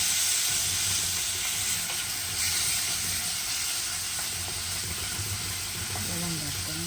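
Tomatoes with salt sauté in a pan for a Sri Lankan-style fish curry made without coconut milk. There is a steady close sizzle with light scraping as the pan is stirred, plus faint background noise and no speech.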